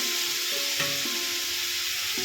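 Pui (Malabar spinach) seeds drop into a pan of sautéed vegetables and sizzle with a steady hiss, with a few light clinks of stirring over a short span.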